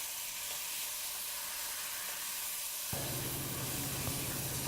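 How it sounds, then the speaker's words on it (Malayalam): Mutton masala with lemon juice sizzles and sautés in a pan, a steady close hiss that grows louder and fuller about halfway through, with no talking. "ഇത് നന്നായിട്ട് മിക്സ് ചെയ്തതിന് ശേഷം ഏകദേശം 3 to 5 മിനിറ്റ്സോളം വഴറ്റുക."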